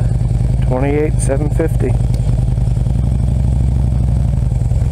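A motorcycle engine idles steadily and loudly up close while the rider clicks it into gear, with a brief clunk and a clutch-lever rattle; someone speaks briefly over the engine.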